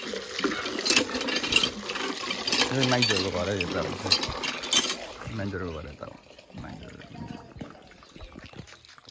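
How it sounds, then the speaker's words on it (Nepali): Water is poured in a home setting, a trickling, splashing flow running beneath a person talking throughout, louder in the first half and then fading. "अब चाहिँ म पानी हाल्न थाल्छु"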